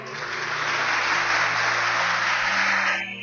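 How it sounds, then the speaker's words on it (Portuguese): Church congregation applauding together during a sermon, a steady dense wash of clapping that holds for about three seconds and fades slightly at the end, with faint sustained tones underneath. "Você pode aplaudir o Senhor?"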